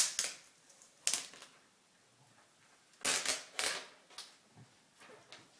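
Plastic film peeled off an Apple iPad 2 during unboxing, a few sharp crinkling bursts separated by quiet gaps, close and alone.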